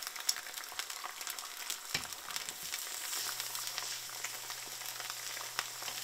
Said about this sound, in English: I'm going to cook some ham.